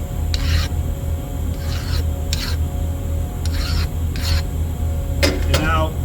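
A machined metal block being deburred by hand, with a series of short, close rasping file strokes repeating at an irregular pace over a steady machine-shop hum.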